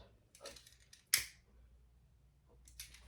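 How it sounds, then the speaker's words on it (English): Scissors snip once, a single sharp close cut through excess zipper tape on a tote bag, surrounded by faint rustling. "We're going to cut off our excess zipper tape and burn those."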